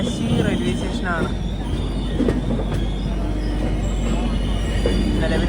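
A train rolls through Kashi railway station near Varanasi, a steady rumbling wheel noise that continues throughout, with occasional brief squeals, and a person talking over it.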